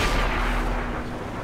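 A tank cannon blast in World of Tanks on Xbox One, a heavy deep boom with a rumbling decay that fills the brief moment, heard alone.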